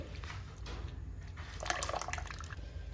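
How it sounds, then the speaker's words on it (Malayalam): Milk powder mixed with water pours and splashes into a pot of payasam for a few seconds, a soft trickling that swells into a fuller gush partway through, close and fairly quiet. "ഞാനിപ്പം മൂന്ന് ടേബിൾ സ്പൂണ് മിൽക്ക് പൗഡർ വെള്ളത്തിൽ കലക്കിയിട്ട് അതും കൂടി ഇതിൽ ഒഴിക്കുന്നുണ്ട്"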